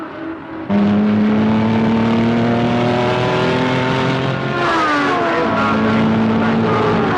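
A loud racing car engine drones steadily at high revs, its pitch shifting and climbing partway through as it accelerates close by.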